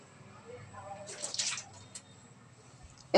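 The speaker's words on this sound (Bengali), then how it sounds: "গরম পানি দিয়ে কচুগুলো একটু ধুয়ে নিলাম" Hot water sloshes over pieces of taro being washed in a bowl, with soft splashes and drips, then a sharp clatter at the end, with faint talk in the background.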